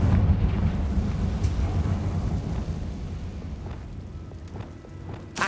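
Confringo fire-blast spell in Hogwarts Legacy bursting with a deep, rumbling boom that rolls on and slowly fades over several seconds, heard without any talking.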